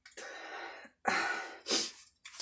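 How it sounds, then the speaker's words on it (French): A few close, breathy bursts in quick succession, like a sneeze building up and releasing, with short gaps of quiet between. "Je crois que je vais éternuer."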